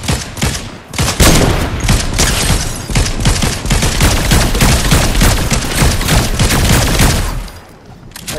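Rapid gunfire in the video game Fortnite, dense overlapping bursts of shots with booming impacts, loud and continuous for most of the stretch before easing off at the end.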